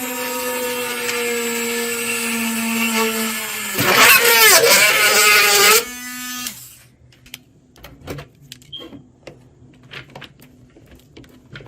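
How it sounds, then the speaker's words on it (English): A power drill whirs loudly for a couple of seconds while drilling a hole in a DeLonghi espresso machine, then stops, followed by scattered clicks and light handling noises. "We're going to drill another second hole a little bit to the right of the one that we just"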